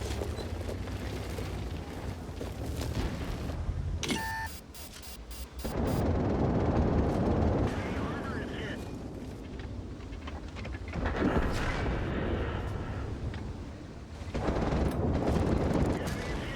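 Light tank gunfire and rumbling battle noise in a tank video game, loud sustained blasts and heavy low-end roar in several waves separated by short quieter gaps.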